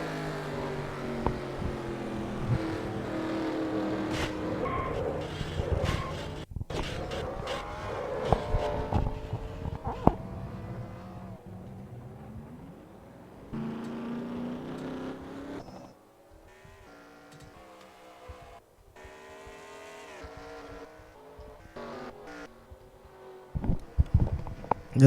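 Stock race cars in the NASCAR Racing 2003 sim at Darlington drone steadily with layered engine tones, shifting pitch as they pass and accelerate, then thinning out near the end.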